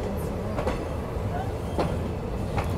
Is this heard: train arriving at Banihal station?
yes